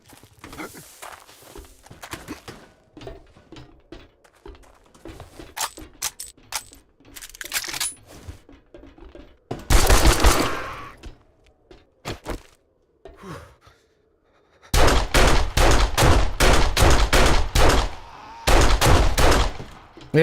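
Gunfire in the zombie survival game 7 Days to Die: scattered single shots early on, then loud rapid bursts of automatic fire in dense clusters, separated by short pauses.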